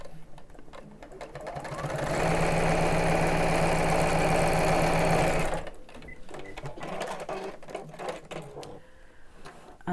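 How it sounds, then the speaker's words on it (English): Close by, a sewing machine runs steadily for about three seconds, stitching a flap down near the fabric edge with a loud, even whirr and rapid mechanical ticking. It stops abruptly, followed by lighter clicks and handling of fabric. "I'm going to put the flap same distance from each side and just sew that close to the edge"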